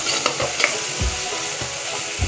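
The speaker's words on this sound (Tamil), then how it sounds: "மசாலாலாம் நல்லா மிக்ஸ் ஆகிற வரைக்கும் வதக்குங்க." Masala for vada curry sizzles steadily in a hot pan while a spoon stirs and scrapes it, with a few soft knocks against the pan; constant frying hiss, close and moderately loud.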